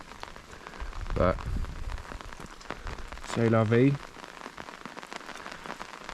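Steady rain falls on a food forest garden after heavy downpours, a constant patter of drops throughout, with a person speaking briefly over it.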